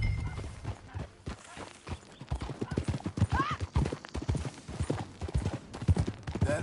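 Horse hooves clip-clop at a steady walking rhythm while riding in the video game Red Dead Redemption 2, close and fairly loud, with game speech and ambient sounds around them.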